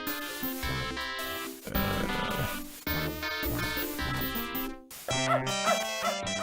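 A dog barks and yips in the video game Beneath a Steel Sky; short repeated barks and whimpers sit within loud game music that plays throughout, with no speech.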